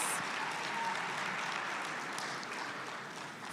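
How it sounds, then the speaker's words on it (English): Audience applause at a college prize-giving ceremony, a steady wash of many hands clapping that holds evenly for several seconds at moderate distance, fading slightly toward the end. "Let's give her a round of applause in her absence."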